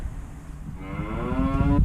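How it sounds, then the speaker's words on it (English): A cow lets out a long, low moo that swells louder toward the end, over steady outdoor wind noise. "The cows, the cows, the cows, the cows, the cows, the cows"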